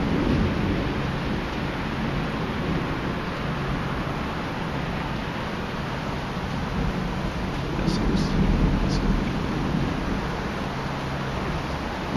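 Thunder from a supercell and derecho storm over Stockbridge, Georgia, in June 2013 rolls as a long, steady low rumble, blended with a constant wash of wind and rain noise that swells slightly near the end.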